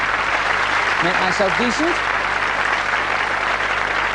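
Studio audience applause after a magic trick on a BBC television magic show, a steady broadband wash of clapping throughout with a voice speaking briefly over it.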